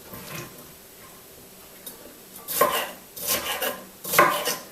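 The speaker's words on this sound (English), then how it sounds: "And chopping into centimetre cubes again." A knife chops red pepper into small cubes on a board, with three or four close, crisp chopping strokes after a quieter start and no talking.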